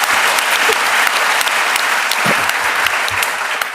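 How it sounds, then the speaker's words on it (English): Audience applause at a talk on the English language by John Humphrys, a dense, steady wash of many hands clapping that holds at full strength for nearly four seconds with no voices over it. "That second bit of applause doesn't come out of my allotted time, does it?"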